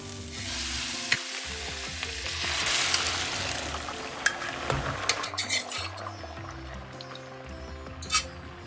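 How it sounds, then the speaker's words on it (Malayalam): Chickpeas stirred into a sizzling fried masala paste for a Kerala-style chickpea curry with mint and cilantro, a steady close frying hiss with scraping spoon strokes and occasional sharper clicks, no voices. "ഇനി ഇതിലേക്ക് ഞാൻ കടലയ്ക്ക ചേർക്കുകയാണ്."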